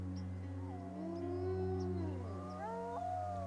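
Several wild wolves howling together in a northern wilderness bay, long wavering and overlapping calls rising and falling, heard faintly at a distance over a steady low hum.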